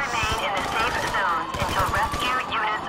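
Gunfire in Grand Theft Auto during the Doomsday Heist, with a steady barrage of shots running under near, excited talk throughout.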